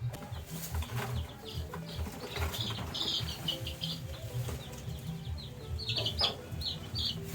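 A day-old chick is picked up, giving high chirps and peeps along with soft wing flapping and rustling nearby, amid a steady low murmur of other poultry.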